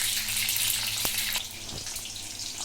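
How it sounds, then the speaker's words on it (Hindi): Brinjal slices deep frying in hot oil over a high-medium flame give a steady, dense sizzle and bubbling hiss that runs throughout, close and fairly loud, with no talking. "बैंगन को जो हम ये फ्राई कर रहे हैं"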